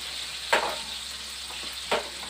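Onions frying in a pan give a steady close sizzle and hiss, with two brief louder stirring scrapes spaced about a second and a half apart.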